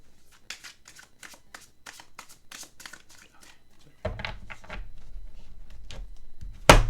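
Tarot cards are shuffled by hand in a rapid series of crisp riffling flicks, close and fairly quiet, followed by a denser, louder burst of card handling near the end.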